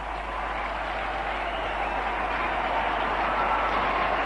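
A stadium crowd at Calcutta applauds Tendulkar's century in the 1998 India versus Kenya Coca-Cola Cup final, a dense, sustained roar of clapping and cheering heard from a distance, steady and unbroken.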